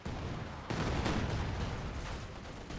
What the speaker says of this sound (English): And the Katyusha is doing so much damage.